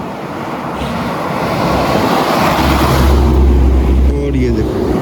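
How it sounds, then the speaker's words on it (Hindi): A vehicle approaches along a dark mountain road at night in northern Pakistan, its low engine rumble swelling steadily louder and closer over a background of motorbike and road noise. "कोई गाड़ी आ रही है"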